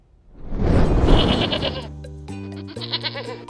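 Goats used by a city to clear vegetation bleat loudly and close by, a long wavering cry followed by several overlapping bleats from the herd.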